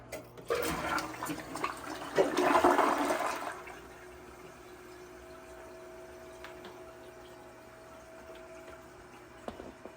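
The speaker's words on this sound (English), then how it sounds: "First flush." A newly installed Kohler Cimarron toilet with Revolution 360 flushing flushes with a loud rushing gush of water for a few seconds, then settles into a quiet, steady refilling trickle.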